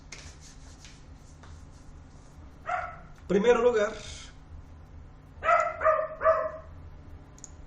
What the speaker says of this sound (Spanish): hay un perrito ladrando acá